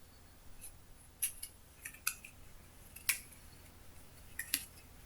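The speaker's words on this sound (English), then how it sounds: "their movements are what's making that very loud rustling noise" In the video game The Lost Reaver, unseen creatures move all around, making scattered sharp clicking and snipping rustles at irregular intervals over a soft background hiss, with no talking.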